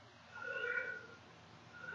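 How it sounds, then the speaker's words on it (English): A house cat gives a drawn-out, close meow that swells and fades, followed by a softer start of another, alone in a quiet room. "this morning our newer cat, she's finally starting to open up more"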